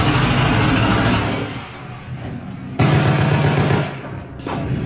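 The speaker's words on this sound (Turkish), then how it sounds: "Peşi sıra mitralyözler tıkırdamaya başladı." Heavy, sustained gunfire with dense crackling bursts, loud and close, breaking off and resuming in waves over a rumbling battlefield background.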